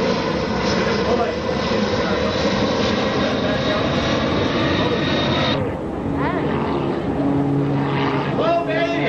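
A jet airplane passes low over the runway at an airshow in South Carolina, a loud, continuous roaring whoosh that dominates the first half and then eases, with voices talking over it.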